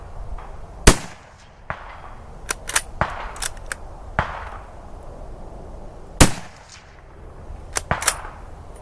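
Rifle shots at an outdoor shooting range, several sharp loud reports spaced irregularly over several seconds, each followed by a short ringing decay, with quieter range noise in between.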